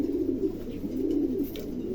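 Pigeons cooing close by, a soft continuous low murmur of overlapping coos that holds steady without pause.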